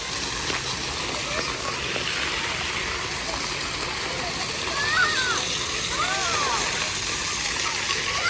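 Water sprays from the mouth of a dragon fountain at a harbor spray park, a steady splashing gush that runs throughout, close and fairly loud, with voices and children's cries in the background.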